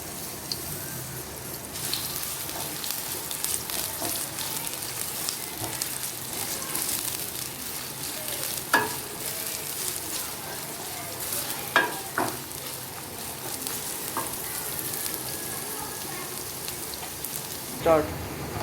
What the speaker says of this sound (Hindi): देखें हमारे प्याज लाइट ब्राउन हो रहे हैं